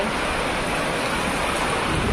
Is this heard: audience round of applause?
no